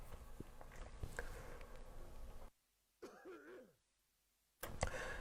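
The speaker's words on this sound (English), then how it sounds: "Excuse me, just had to clear my throat again." A person clears their throat a few times during a break in talk about the controls of an Akai MPC X; the short, rough bursts are close and moderately loud, with quiet pauses in between.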